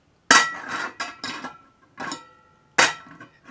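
Titanium camping cookware, a frying pan and pot on a small stove, clinks and clanks in a handful of sharp metallic knocks with short ringing tails, close and fairly loud, with pauses between hits and no talking.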